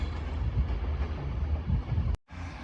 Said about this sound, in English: Departing now is your 1354 Northern train service to Whitby, starting here at Carlisle